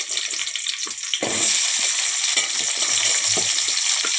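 Green chillies frying in a small amount of oil in a home kitchen pan: a steady, close, bright sizzle with crackles and occasional stirring scrapes throughout.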